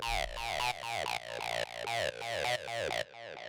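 An acid synth bassline pushed through an amp for distortion, bright and gritty with sharp repeated note attacks in a driving pattern, loud and alone until a short stop near the end.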